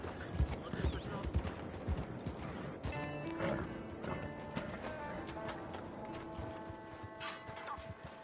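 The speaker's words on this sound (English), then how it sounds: "You ought to take care of that horse." Horse hooves clip-clop in an uneven running rhythm alongside a neigh, with crashes and tonal background sound mixed in and a voice briefly heard.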